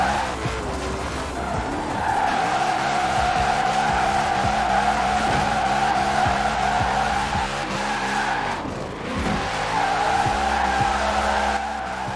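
Sustained tire screeching from a drifting car in Forza Horizon 4, its engine droning steadily underneath, with a brief dip midway before the squeal resumes; no voices.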